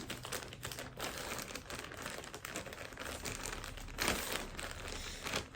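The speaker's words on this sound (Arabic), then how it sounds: "ايه الكيس اللي مش بيفتح ده، بفتحه كده بيقفل برضو" A plastic shopping bag from a clothing haul crinkles and rustles steadily at close range as it is pulled open, with a louder crackle near the end and no talking.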